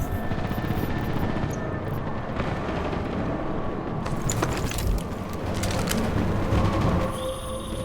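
Helicopter in the video game Deus Ex: Mankind Divided, a loud continuous rumbling roar in a sandstorm, with mechanical clanks and bursts layered over it throughout.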